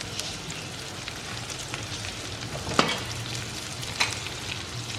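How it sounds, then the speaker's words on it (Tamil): Sliced onions and slit green chilies fry in a pan for paneer curry, giving a steady soft sizzle with a couple of sharp utensil clicks near the pan; no voices. "இந்த வெங்காயம் வந்து கொஞ்சம் சாஃப்டாக குக் ஆகணும்"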